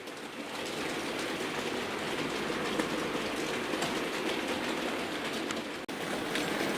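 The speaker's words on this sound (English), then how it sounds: "And you can see they're running fantastically. As good as any analogue locomotive" Digital model locomotives run on an analogue model railway layout, giving a steady close rolling rumble and rattle of wheels on track that continues without a break.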